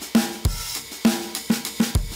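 A drum track blended with a heavily compressed parallel copy in Ableton Live: punchy kick and snare hits in a steady groove, about six strong beats with a dense, squashed body and sustain between hits, loud and alone.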